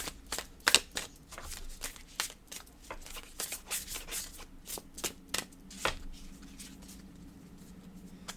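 Cards for a card reading are shuffled by hand in quick, soft riffling bursts and irregular taps, close and fairly quiet, tapering off toward the end.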